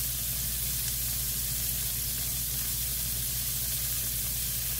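Shrimp frying in a small wok pan, a steady, dense sizzle of hot oil that runs evenly throughout with no voices.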